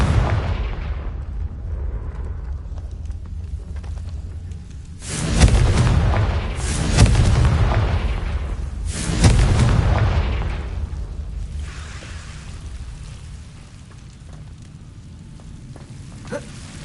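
Confringo fire spell blasts in Hogwarts Legacy, two or three booming explosions rising out of a steady low game ambience, each with a rumbling tail.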